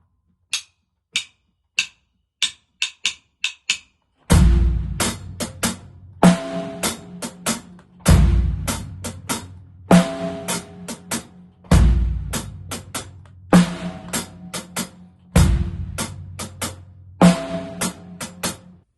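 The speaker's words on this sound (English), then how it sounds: "And then we'll put a bass drum on beat 1 of bar 1 and a snare on beat 1 of bar 2." A drum set plays a two-bar swung pattern: light clicking quarter and eighth notes first, then a repeating groove with booming bass drum and sharp snare hits, loud and close.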